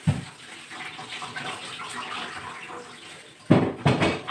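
Tap water runs steadily into a kitchen sink while utensils are washed, including a knife, cutting board and tomato plate, with a louder splashing burst near the end.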